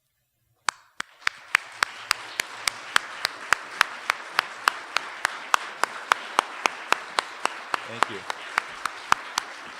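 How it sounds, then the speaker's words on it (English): Audience applause breaks out for department staff standing at an awards ceremony, a steady hall-wide clapping with sharp individual claps punctuating it, continuing for several seconds while a voice briefly speaks over it. "please stand up now so we can thank you for your contributions with a round of applause"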